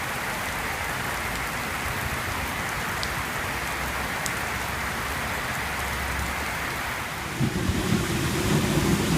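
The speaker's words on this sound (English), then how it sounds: "the rain's actually getting a bit heavier now" Heavy rain pours steadily throughout during flooding weather in Sydney, a dense hiss on surfaces, with a low rumble rising toward the end.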